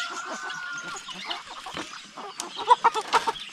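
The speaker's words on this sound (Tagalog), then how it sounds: "Yung mga manok namin mga kaprobinsya oh." Native chickens cluck on a farm, several soft irregular clucks close by, growing louder and more frequent toward the end, with no speech over them.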